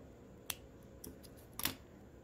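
Scissors snip through crochet yarn in a few quick, faint, crisp cuts spread over about two seconds against a quiet room.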